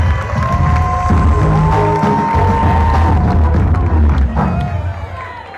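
A large crowd at a closing campaign rally for an election cheers, shouts and applauds in a loud, continuous roar that holds steady with no pauses.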